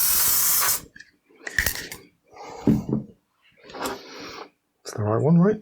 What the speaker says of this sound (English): Let's also stick some WD-40 inside the connector, just for good measure.